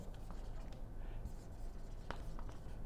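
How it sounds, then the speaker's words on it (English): A pen or marker scratches and rubs softly while a name is written during an accounting lesson, faint and continuous against a low background hum. "Let me write the name of the person."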